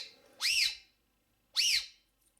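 Two loud, piercing blasts from a Jet Scream emergency signal whistle, blown indoors, with a rising-then-falling shriek, separated by about a second of silence.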